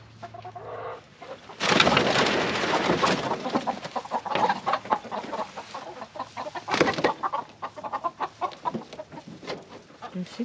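Chickens on a farm, including brown sex links, cluck and chatter continuously amid rustling and handling noise, close and fairly loud, with a dense busy flock sound throughout.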